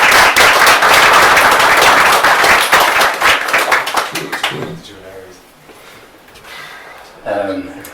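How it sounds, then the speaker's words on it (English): Audience applause and clapping at a poetry reading night, loud and dense for about four seconds, then fading into scattered claps and murmuring voices, with a brief burst of talk near the end. "Let's give them a round of applause."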